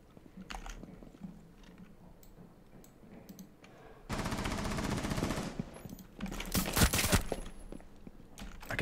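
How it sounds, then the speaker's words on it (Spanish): Rainbow Six Siege gunfire: a long, loud automatic burst erupts midway, followed by a second sharp volley of rapid shots after quieter clicking and movement noises. "¿A quién has disparado?"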